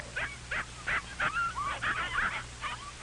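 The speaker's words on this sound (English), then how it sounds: "Paul has never seen so many puppies." Several puppies yip, whimper and bark in short high-pitched bursts, about a dozen calls scattered across a few seconds, close by and with no talking.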